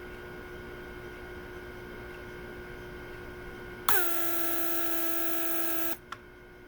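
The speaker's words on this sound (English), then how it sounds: "first we're gonna wait until the pump creates pressure and vacuum" A Mercedes S-Class W140 central locking vacuum pump hums faintly and steadily, then a loud rush of air hisses for about two seconds before cutting off with a click.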